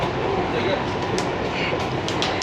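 A metro train runs at a metro station with a steady, loud rumble and a faint rattle of the carriages, while people talk close by.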